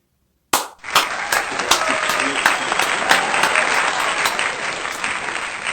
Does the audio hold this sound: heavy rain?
no